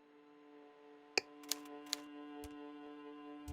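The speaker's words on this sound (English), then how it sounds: "Nah, I hear a typewriter." Sparse typewriter-like clacks from the video game Disco Elysium, a few sharp isolated keystrokes spaced irregularly over a steady tonal music bed, fairly quiet and with no talking.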